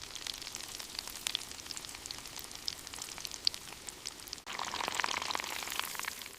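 Oreo cookie in batter deep-frying in hot oil, a steady dense crackle and fizz of tiny popping bubbles, close and continuous, growing louder and fuller after a brief dip near the end.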